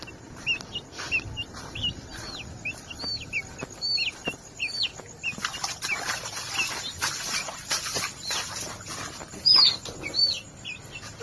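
Chickens peep and chirp close by in a rapid run of short, high calls, with one brief louder squawk near the end over a steady background hiss.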